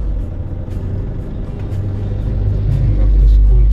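Steady rumble of busy road traffic in a commercial area of Balanga, Bataan, with engines droning continuously and a heavier vehicle swelling louder toward the end; faint voices in the background.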